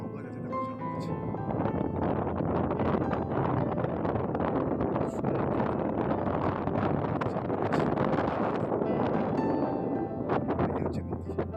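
Strong wind sweeps along a river in the Sundarbans, near casuarina trees, as a steady, loud broadband rush buffeting the microphone for the whole stretch.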